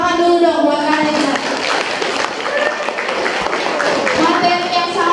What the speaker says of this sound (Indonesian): Luar biasa, tepuk tangan dulu dong buat kalian.